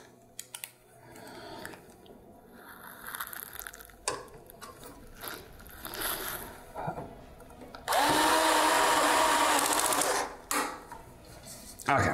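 Screws are driven in to mount an ASUS 4090 TUF OC graphics card, with a loud, steady whirring burst of a couple of seconds among softer clicks and handling noises, close by; a person talks at points.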